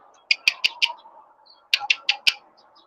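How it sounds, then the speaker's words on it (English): A big bird of prey perched in a tree gives two bursts of about four sharp, rapid calls each, close and fairly loud, with a quiet gap between the bursts. "I've got a big bird of prey here."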